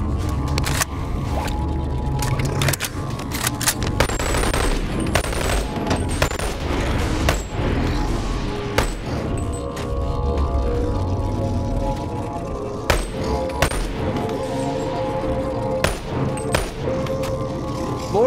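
Scattered gunshots from armed guards in the VR game Boneworks crack out across a city street, some sharp and close, others dull, over a constant dense game backdrop.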